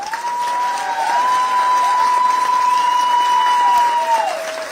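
An audience at a town hall breaks into sustained applause, a dense, even wash of clapping that holds steady, with a thin steady tone running underneath.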